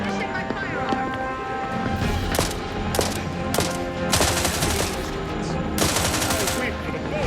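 Gunfire in the video game The Outer Worlds 2: sharp bursts and scattered shots crackle over a busy mix of game voices and background sound.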